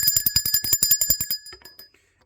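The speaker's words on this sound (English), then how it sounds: "Let me ring the bell for that." A bell rung rapidly in a bright, repeated series of about a dozen close, loud strikes, then a few lighter trailing rings fading into quiet.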